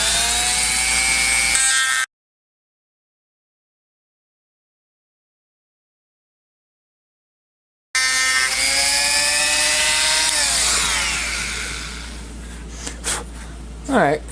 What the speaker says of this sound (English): It's kind of like a little circular saw, and this does a pretty good job with them.